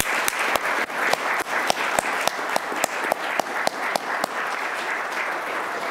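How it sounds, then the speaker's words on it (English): Audience at a citizenship awards ceremony applauding young award recipients, steady dense clapping from a moderate-sized crowd over several seconds, with a few sharper individual claps standing out. "Please join me in applauding all these outstanding young men"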